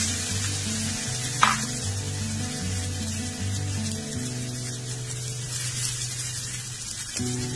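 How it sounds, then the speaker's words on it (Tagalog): Salmon frying in a hot pan without oil, a steady close sizzle with a low hum beneath and a single brief clatter near the start. "Siguraduhin po natin mainit na ang ating pan bago natin ilagay ang ating salmon"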